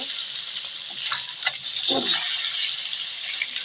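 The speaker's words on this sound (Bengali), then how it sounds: "আলুর ভাতের জন্য মাছটা আমি বেশি ভাজবো না, হালকা একটু ভেজে নেব।" Rohu fish lightly fries in hot oil in a pan, giving a steady, close bright sizzle with a few soft stirring scrapes along the way.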